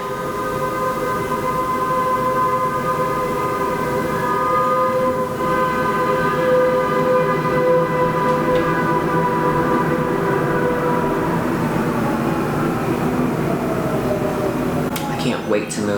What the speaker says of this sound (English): I hate living by this damn train.